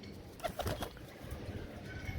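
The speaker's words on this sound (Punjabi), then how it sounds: "ਲਓ ਜੀ ਨੋਨੇ ਲੈ ਜਾ ਬਈ ਕਬੂਤਰੀ" Flying pigeon sounds: a few soft coos and a brief flutter of wings over a steady low outdoor rumble.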